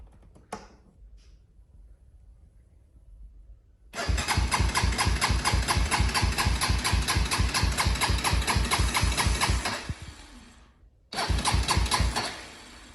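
A Honda 400EX ATV engine that died on the trail cranks briefly, then runs with a fast rough chugging idle for several seconds, stops, and restarts near the end.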